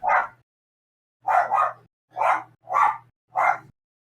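A dog barks five times in short bursts, one bark then a pause followed by four more at a steady rhythm, fairly close and clear with no talking over it.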